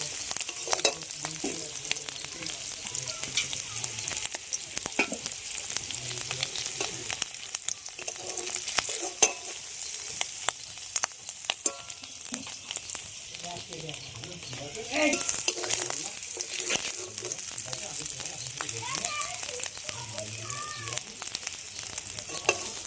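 Snails fry in hot oil with a steady crackling sizzle, stirred now and then with scraping and clinking, while a voice speaks faintly underneath.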